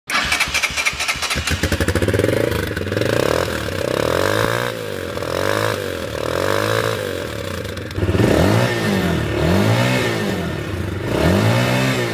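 A Vento Falkon 220 motorcycle engine starts with a sputtering clatter, then revs repeatedly in loud, rising and falling exhaust bursts, close by, with no talking.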